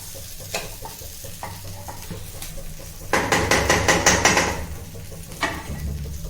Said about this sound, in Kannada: ಆ ಕಡೆ ನನ್ನ ತಂಗಿ ಎಗ್ ಫ್ರೈ ಮಾಡ್ತಾ ಇದ್ದಾಳೆ